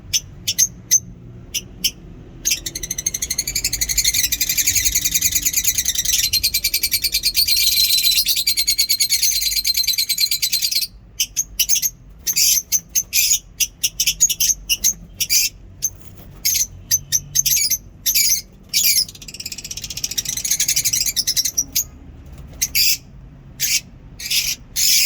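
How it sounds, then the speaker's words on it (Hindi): Birds in a rooftop aviary at a mini zoo call in shrill, chattering bursts, loud and close, with brief gaps of quiet between runs of chirping. "Charming birds. खूबसूरत आवाज़ें निकालती हैं"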